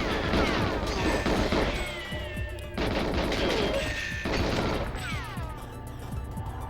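Intense gunfire fills the scene, with dense rapid volleys and sharp cracks crowding together in loud, continuous waves and only brief dips between them.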